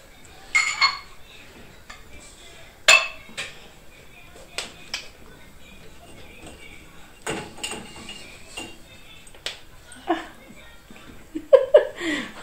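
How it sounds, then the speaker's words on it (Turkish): Glasses clinking and dishes knocking as a dishwasher is unloaded at home, several sharp separate clinks scattered over the stretch with quiet gaps between, near and moderately loud, with soft voices and a bit of laughter around them. "Deren bulaşık makinesi boşaltıyor"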